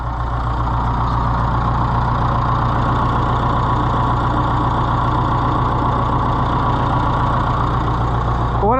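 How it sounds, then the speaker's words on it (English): A tractor engine idles steadily as the machine rolls forward during a spot sprayer build, with a loud, even low rumble and fine rhythmic pulsing that holds throughout, close to the microphone. "let's let the tractor roll forward a little bit now."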